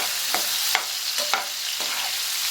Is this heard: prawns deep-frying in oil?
yes